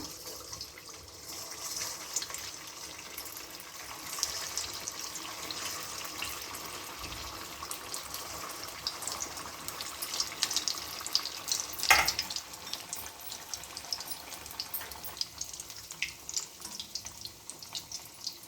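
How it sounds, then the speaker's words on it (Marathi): Sabudana vadas fry in hot ghee in a kadhai, giving a continuous bright sizzling hiss with small bubbling crackles and one louder surge midway. "आता हे तूप गरम झालेले आहे. आपण एक एक करून वडा हा कढईत सोडूया."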